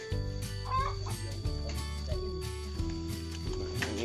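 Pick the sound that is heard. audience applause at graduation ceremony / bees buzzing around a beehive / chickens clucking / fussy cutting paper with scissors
chickens clucking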